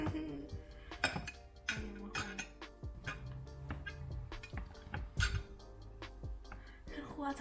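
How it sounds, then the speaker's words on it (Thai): Strawberries and sugar are mashed in a bowl, giving irregular clinks and knocks of a utensil against the dish at moderate distance, with bursts of people talking between and over the sounds. "บดสตรอเบอรี่ใส่น้ำตาลไปก่อนบดไปก่อนบัวบดก่อนเลยน่าจะบดก่อน"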